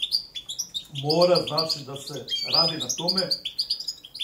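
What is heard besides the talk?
European goldfinch (Carduelis carduelis balcanica) singing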